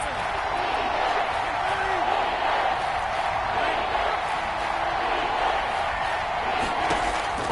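A constant roar from the Kansas City crowd in a PS4 football game fills the stadium on a third-and-goal play, steady and dense, with commentary talk over it.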